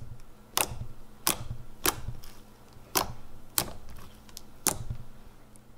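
Thick, clicky slime is squished in a steady rhythm of about eight sharp, crackling pops, each followed by softer squishy texture, close to the microphone and with no talking.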